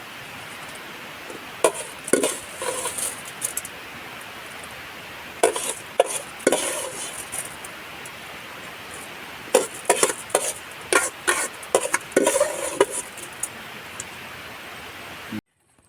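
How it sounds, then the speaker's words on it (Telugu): Washed rice for a rice gruel with jute leaves is tipped into a bowl, giving intermittent soft grainy rattles and patters in irregular bursts, close by and moderately loud, with no talk. "రైస్ అయితే ఇప్పుడే ఈ బౌల్లో అయితే వేస్తున్నాను"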